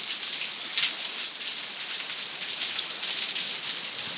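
Rain falling on a surface during a hurricane, a dense, even hiss of drops that holds steady and fairly loud throughout, with no voices.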